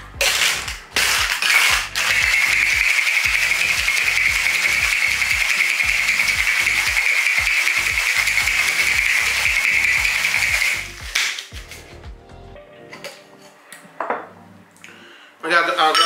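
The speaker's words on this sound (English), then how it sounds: "And we're gonna go for a hard shake." Hard, fast shaking of a cocktail shaker mixing a gin-based Floradora drink, a loud continuous rattling of ice that runs about ten seconds close up, then stops, followed by a few clinks and handling noises.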